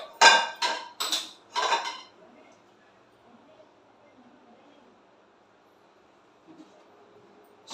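A metal kadai pan is set down and handled in a kitchen, a few sharp ringing clanks close up in the first two seconds, then near silence with a faint knock near the end.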